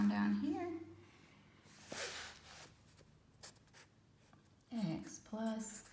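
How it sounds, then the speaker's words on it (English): Equations being written on a board, a few short scratchy strokes between stretches of a nearby voice talking. "So I'm just gonna write that down here."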